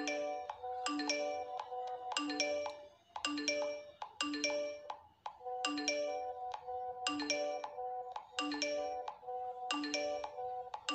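Bursts of WhatsApp message notification chimes on a phone ring out loudly one after another, repeating in a steady rhythm as messages keep flooding in, with no talking.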